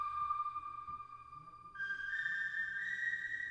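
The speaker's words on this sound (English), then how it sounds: "It's really just a flute one-shot that I drowned in reverb." A single flute note is held over a long reverb wash in a trap beat, with a clear sustained tone that shifts higher partway through and then lingers in a soft, airy tail.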